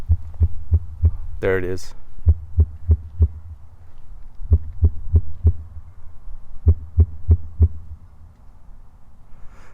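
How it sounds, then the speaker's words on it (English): Subwoofer playing an 80 Hz test tone, a low steady hum broken by regular thumping mechanical pulses in short rhythmic groups, heard up close, with a brief burst of louder noise near the start and a short spoken remark. "you can hear the 80 hertz, but as it gets louder, listen, you can hear more mechanical noise"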